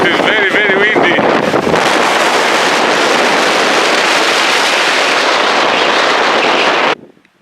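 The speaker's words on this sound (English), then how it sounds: "Yeah, as you can notice, very, very windy." Ferocious wind from a snowstorm on the snowy summit of Hailstone Butte roars and buffets the microphone in a loud, continuous rush, then cuts off abruptly near the end.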